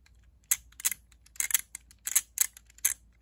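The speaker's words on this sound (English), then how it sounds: "it ratchets. It'll turn one way, but not the other way" A toothed LEGO 2x2 round piece ratchets as it turns, giving a series of about eight sharp plastic clicks in loose pairs, close and clear with no talking.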